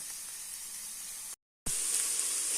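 Vegetables for an okra stew sizzle steadily in a hot pan, a close, even hiss that cuts out briefly and comes back stronger.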